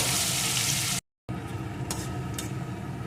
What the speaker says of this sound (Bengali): একটু ভেজে নিয়েছি।